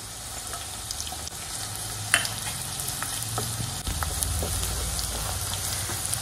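Potato pieces fry in a pan with a continuous low sizzle and faint crackle, a few sharper ticks from stirring or spatters, close and steady with no voices.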